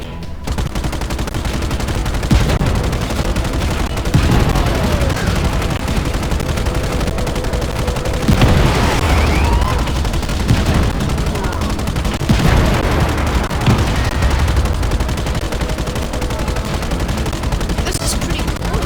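Cannon fire in the video game Just Cause 3, a dense run of booming gunshots and explosive blasts that is loud and continuous, with game effects and some voices layered over it.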